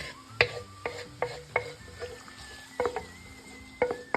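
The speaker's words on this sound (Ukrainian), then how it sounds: "Це все гарно перемішуємо" Garlic oil being mixed into a zucchini marinade dressing, with faint scattered clinks and scrapes of a utensil against a bowl in a quiet room; no talking.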